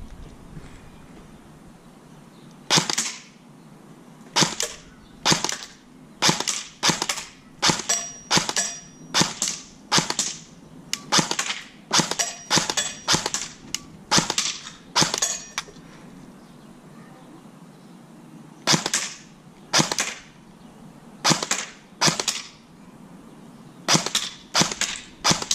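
Sharp, snappy airsoft M4 rifle shots on semi-auto ring out one at a time, some in quick pairs and short clusters and others after longer pauses, close and loud against a quiet outdoor shooting spot.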